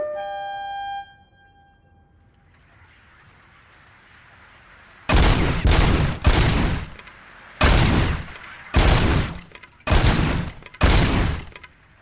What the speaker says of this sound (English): Oh no, he's shooting all of them.